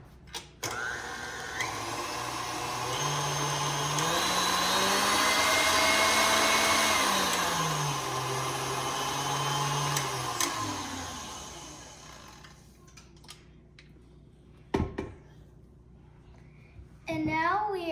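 Electric hand mixer whirring steadily through banana bread batter, loud and continuous with motor pitch rising and falling, then cutting off, followed by a few faint clinks and brief sounds.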